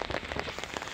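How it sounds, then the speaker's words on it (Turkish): Rain pattering steadily on the ground and surfaces outdoors while someone walks to work through the wet streets, a close, continuous wash of drops with no voices. "Her yer yağmur altında."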